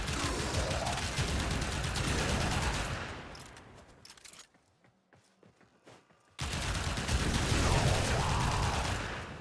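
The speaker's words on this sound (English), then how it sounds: "Because this is an automatic shotgun, you can just hold down the button and it'll shoot." The Pyrana Prime automatic shotgun in Warframe fires in fast, sustained bursts. A long loud stretch trails into near silence for a couple of seconds, then the rapid blasts resume just as hard.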